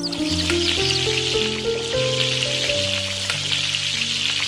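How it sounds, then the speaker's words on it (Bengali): Large koi fish frying in a pan as a cartoon sound effect: a steady, loud sizzle runs throughout under a layer of tonal background music, with no speech. "দুঃখীর মা তাড়াতাড়ি করে বড় কই মাছ ভাজা করে দিল"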